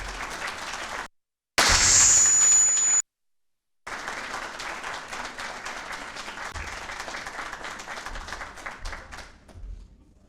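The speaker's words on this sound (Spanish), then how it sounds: "Por favor, un fuerte aplauso para Horacio Giusto." An audience at a book launch in Santiago de Chile applauds in a dense, sustained wash of clapping after a couple of brief silent gaps and a short harsh burst, carrying on strongly to the end.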